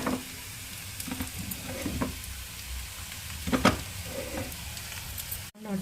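Millet dosa cooking on a pan over a low flame, a soft steady sizzle with faint scraping and stirring clicks, close and without speech.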